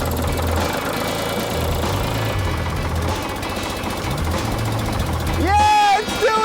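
A Jeep engine cranks with loud, rapid, rough knocking pulses, then catches and runs unevenly, close by. Excited voices shout and cheer near the end.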